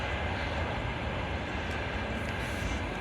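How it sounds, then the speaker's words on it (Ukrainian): Trains pass on a nearby railway at night, outside a home garden. The result is a steady, loud, broadband rumble with no breaks throughout. "Потяги їздять, сусіди жужжать."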